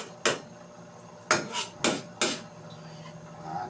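Metal lid set back onto a cooking pot of chicken tinola, with four distinct clanks spread over a few seconds, close and clear with no talking.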